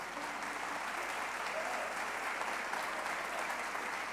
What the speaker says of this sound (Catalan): Aplaudiu-lo fort